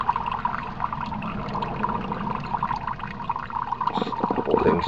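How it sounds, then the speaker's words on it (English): Water rushes and gurgles through a bell siphon draining the grow bed of a homemade aquaponics system built from recycled goods, a continuous pouring flow that swells louder toward the end. "Then as that water gets down to the bottom of the bell siphon,"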